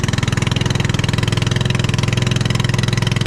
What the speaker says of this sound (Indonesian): Kita start engine.